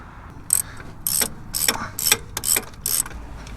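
A ratchet tightens the bottom bolt on a shock absorber of a 2005 Chevy Colorado pickup, making six or seven sharp, evenly spaced bursts of clicking. It is close and alone, with no talking.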